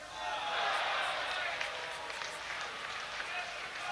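Football crowd at Selhurst Park for a Crystal Palace versus Brighton bank holiday match, broad applause and crowd noise washing from a distance, with a commentator talking over it.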